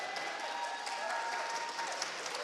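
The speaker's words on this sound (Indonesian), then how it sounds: "kita berikan tepuk tangan yang meriah" Steady applause fills the room at the first stock listing ceremony for GoTo shares at the Indonesia Stock Exchange, a dense, even clapping from a gathered audience without a break.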